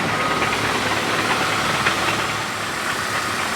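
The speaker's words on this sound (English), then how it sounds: "it doesn't really sound like it's the engine. It almost sounds like a water pump" A hybrid car's engine bay gives off a steady mechanical whir and knock resembling a water pump, heard up close with no talk over it.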